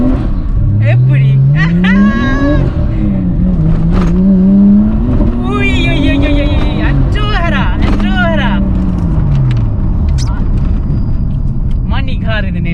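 A Nissan Skyline GT-R34 engine revs up repeatedly, its pitch climbing in rising sweeps that ease off between pulls, while someone talks over it throughout.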